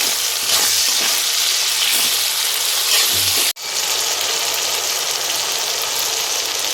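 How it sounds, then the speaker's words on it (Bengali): Ginger paste, green chilli and bay leaf frying in hot oil after onions, a dense, steady sizzle with light stirring, loud and close, broken by one brief cut partway through. "এটা একটু ভেজে নেব।"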